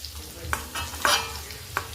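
Cumin seeds frying in hot oil while cooking dahi aloo, giving a low steady sizzle with a few brief scraping stirs, close and fairly quiet.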